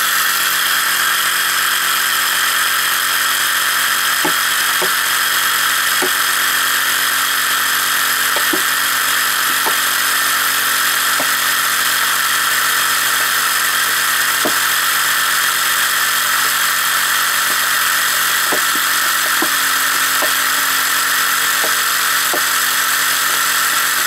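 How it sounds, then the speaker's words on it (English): A steady mechanical whine from an electric vacuum pump converted from an air compressor, constant and fairly loud, with occasional faint clicks and ticks scattered throughout. "That's a good working vacuum compressor."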